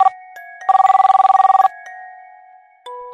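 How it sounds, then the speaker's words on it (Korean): A telephone ringtone sounds for an incoming call, a bright electronic melody with a rapid warbling trill in the middle, loud and clear with no voices over it. "전화가 걸려왔다."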